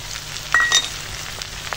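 Brinjal pieces with ginger garlic paste fry in a pan, a brief soft sizzle with a couple of sharp clinks near the middle, close and quiet, with no voices.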